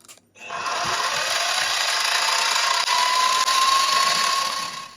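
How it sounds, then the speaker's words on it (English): A steady machine whine of a milling machine drilling holes into aluminum, holding one droning pitch for several seconds with a faint rising tone. "I'm just going to drill out these 4 holes here."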